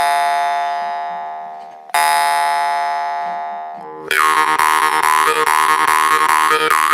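A Mammoth jaw harp twangs loudly and alone, two long sustained plucked drones fading away, then a rapid rhythmic run of buzzing twangs with shifting overtones.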